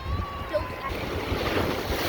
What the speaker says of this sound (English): We got huge waves.